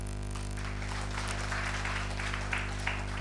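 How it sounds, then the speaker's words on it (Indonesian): Congregation applause at a church service: a broad, steady wash of clapping that runs throughout, laid over sustained music with no talk on top. "tepuk tangan."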